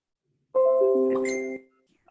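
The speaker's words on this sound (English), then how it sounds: "A bell just went off." A smartwatch voice assistant plays a bright electronic bell chime, a single rising multi-tone ding lasting about a second, clear and close with no talking over it.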